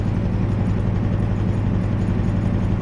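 Diesel engine of an Intercity 43 HST in a Midland Mainline train simulator game, a steady low throbbing rumble with a pulsing beat, loud and constant with no talk over it.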